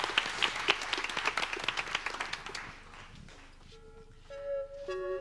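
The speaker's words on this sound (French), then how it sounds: "On applaudit bien fort Sarah Fournier" Audience applause at an academic thesis presentation event, a dense burst of clapping that fades out over about three seconds, followed by a few soft sustained tones.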